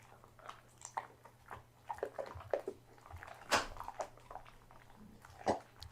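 A large pit bull eats with irregular wet chewing and biting sounds, close and moderately loud, scattered in bursts over a low steady hum, with no talking.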